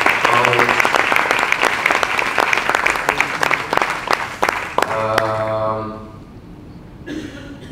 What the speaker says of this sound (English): yesterday we gave them a hand of applause, but I just think they deserve another one